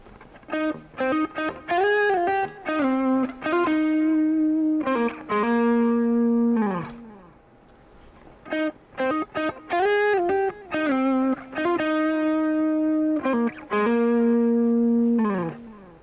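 Electric guitar plays chord phrases in a tone soaked in reverb, notes ringing and trailing off into a roomy wash, with a brief quiet pause midway.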